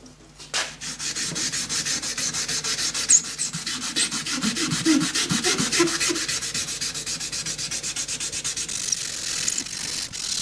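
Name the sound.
wet sanding with 400 grit paper on rubber block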